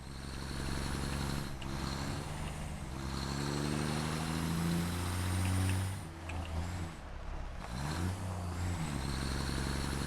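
Engine of a vehicle driven in the video game Satisfactory, a steady droning hum with rising and falling pitch as it accelerates, alone without talk.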